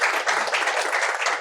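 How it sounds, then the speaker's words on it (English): A short burst of dense audience applause at a law and technology policy hackathon, loud and close, with no talk over it. "Give yourself a round of applause."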